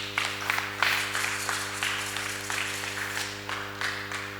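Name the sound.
audience applauding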